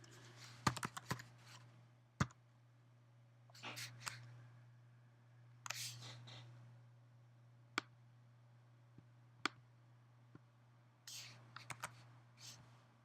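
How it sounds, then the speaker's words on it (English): Keystrokes on a computer keyboard come in scattered short bursts of clicks with pauses between them, quiet and close over a steady low electrical hum. "I'm going to type"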